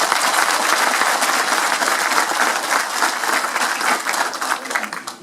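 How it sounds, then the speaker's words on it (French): Sustained applause from a large audience at the official launch speech of a foundation, honouring veterans present, a dense steady roar of many hands clapping close by and filling the whole stretch. "je vous demande d'applaudir tous les moudjahidines qui sont parmi nous"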